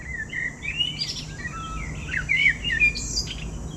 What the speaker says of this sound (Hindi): परिंदों की चहचहाने की आवाज़ें आपको आ रही होंगी।